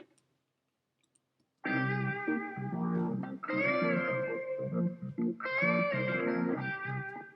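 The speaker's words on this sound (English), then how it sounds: "And let's give everything a little reverb." A harmonic musical mix with reverb applied to everything: sustained tonal phrases after a short silence, with a lingering, reverberant tail between bursts, fairly close and clear.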